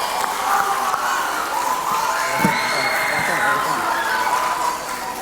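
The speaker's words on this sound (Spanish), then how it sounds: "démosle un fuerte aplauso a los dos" A lively audience at a Ekklesia 2024 church event cheers, whoops and claps for two contestants, loud and continuous with shouting voices mixed in.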